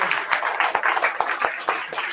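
A worship gathering in Varanasi claps together in loud, fairly close applause, a quick run of overlapping hand claps that holds steady throughout.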